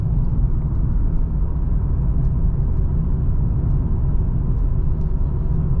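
Volvo V70 2.5T with a Geartronic automatic gearbox, heard from inside while driving: a loud, steady engine and road rumble that carries on without a break, no voices over it.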